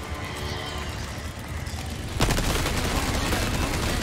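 Grenade blasts in the Resident Evil 4 Separate Ways game: a steady rumble of gunfire-like bursts, then a sharp, loud explosion about halfway through, followed by dense continuing crackle and booms.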